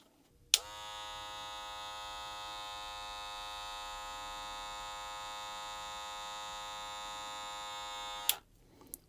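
A Wahl Gold Magic Clip hair clipper switches on with a click, runs at a steady high-pitched electric buzz for about eight seconds, then clicks off, close by and alone.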